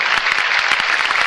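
Church congregation clapping during a worship service, a dense, steady wash of many hands filling the space without pause.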